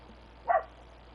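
A dog named Shifu gives a single short bark at middle distance, a brief isolated burst against a quiet background with no talking.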